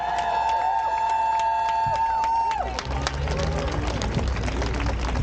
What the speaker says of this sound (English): Give a round of applause to Mr. Piccolo, please.